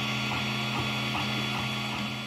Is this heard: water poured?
no